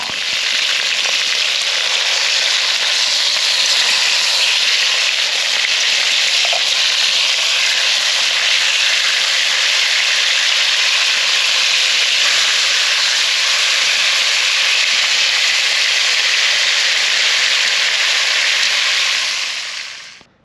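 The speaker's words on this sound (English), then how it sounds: "The meat has been seared." Chuck roast sears in a hot pan inside a heated tent, giving a loud, steady, unbroken sizzle that holds for about twenty seconds before cutting off abruptly at the end.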